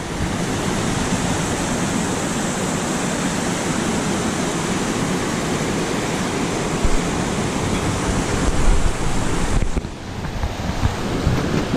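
A mountain stream at a Yosemite campsite rushes in a steady, dense broadband wash, loud and close with no pause, with wind buffeting the microphone and no voices.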